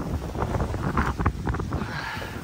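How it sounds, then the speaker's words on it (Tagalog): Loud, gusty wind buffeting the microphone in a constant roar near the snowy summit of Mt Yu Shan, with rumbling bursts and no voices. "Pakalakas ng hangin."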